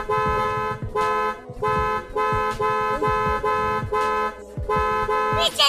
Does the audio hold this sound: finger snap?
no